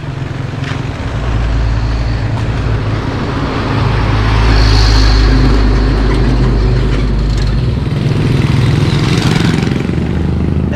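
A motorcycle following a truck on a road in Laos, with a steady, loud engine drone and road rumble filling the whole stretch without pause, and no talk over it.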